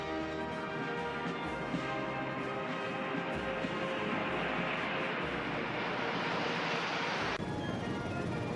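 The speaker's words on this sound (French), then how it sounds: "La patrouille de France traverse le ciel de Paris en laissant derrière elle les couleurs bleu, blanc, rouge" Patrouille de France aerobatic jets flying over Paris during the 14 July military parade, a loud sustained roar that swells and sweeps across the sky, then cuts off abruptly near the end.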